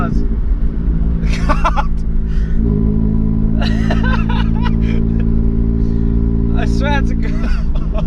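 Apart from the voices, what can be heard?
1 litre car with loud exploding exhaust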